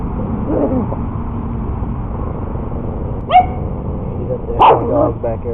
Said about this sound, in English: Dog's back here fighting.